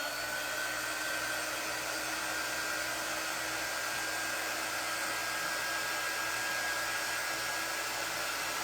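A hair dryer blows steadily on fresh paint coating a thrifted wooden cutting board, a continuous close airy whir with a faint high whine holding even for the whole stretch, no voices.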